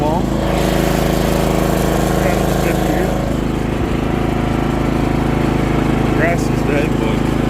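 A John Deere GX75 lawn tractor engine drones steadily and loudly while being ridden, with someone talking over the constant running.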